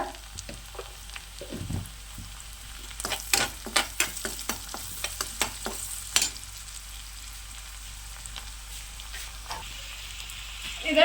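Cooked rice being stirred into a frying pan mixture: a run of scraping, sizzling strokes in the middle stretch over a steady low fry hiss, with quieter patches before and after.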